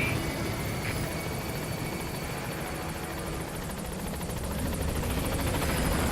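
A helicopter in the video game Metal Gear Solid V approaches a landing zone with a steady rotor whine and rapid blade chop, continuous and moderately loud, with no talk.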